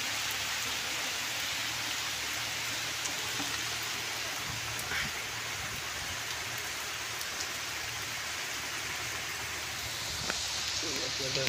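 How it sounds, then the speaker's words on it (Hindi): Heavy monsoon rain pours over flooded rice paddies near a house, a steady, dense hiss of drops on surfaces throughout with faint voices underneath. "कितना बारिश हो रहा है दोस्तों, बहुत बारिश हो रहा है"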